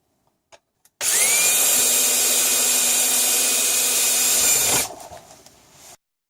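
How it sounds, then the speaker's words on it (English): A few faint clicks, then an electric drill whines at a steady high pitch for about four seconds, drilling a rivet hole in a car repair, before winding down and stopping. "I'll drill one hole."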